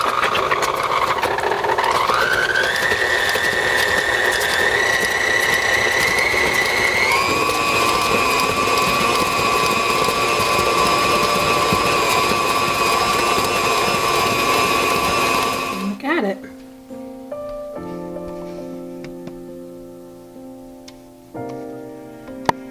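An electric stand mixer whirs steadily as it lightly folds cherries into cookie dough, a continuous loud motor drone that shifts pitch once or twice before switching off, leaving quiet clinks and rattles.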